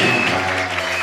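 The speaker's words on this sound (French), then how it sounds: "Acclamez très fort." Loud, dense applause from a church congregation fills the whole second as one continuous, even wash of clapping with no talk over it.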